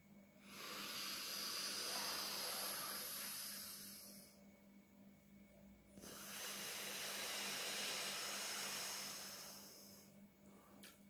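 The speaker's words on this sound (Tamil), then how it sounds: "மூச்சை இழுத்துக்கிட்டு எவ்வளோ நேரம் உங்களால் அதை வச்சுக்க முடியுமோ வச்சுக்கிட்டு அந்த இன்னொரு மற்றொரு துவாரத்தை க்ளோஸ் பண்ணிவிட்டு அந்த இன்னொரு துவாரம் மூலமாக நீங்கள் வந்து மூச்சை வெளியே விடலாம்" A singer's alternate nostril breathing exercise: two long, loud, close hissing breaths through the nose, each lasting several seconds with a quiet pause between them, with no talking over the breaths.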